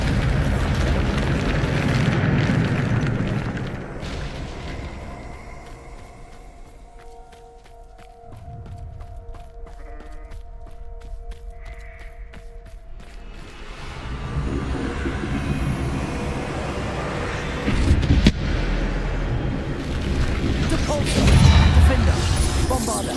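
Bombarda blasting spells from the video game Hogwarts Legacy, heavy rumbling booms and crashing debris that swell loud at the start, fade to a quieter stretch in the middle, then surge back with sharp impacts toward the end.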